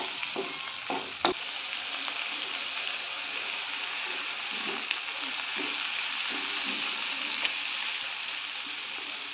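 Fish oil sizzling steadily in a pan with turmeric and chili powder, a continuous bright frying hiss throughout, with a sharp clack early on and a few faint scrapes.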